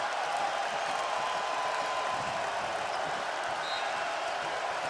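A basketball crowd at Viejas Arena during a San Diego State versus BYU game roars and cheers as fans rise, a dense, steady wash of noise holding for several seconds.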